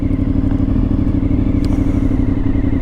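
A Honda VFR750 with a gear-driven-cam V4 engine runs close by, a loud, steady, even idle with a fine mechanical clatter and no talk over it.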